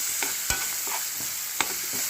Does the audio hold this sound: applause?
no